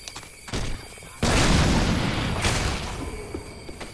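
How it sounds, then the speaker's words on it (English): Grenade launcher blasts in Left 4 Dead 2: a sharp burst, then a heavy booming explosion that rumbles and decays over a couple of seconds, loud and close with faint voices underneath. "We're both running around with our grenade launchers."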